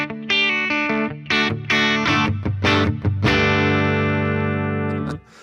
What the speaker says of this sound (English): I like the cloud reverb.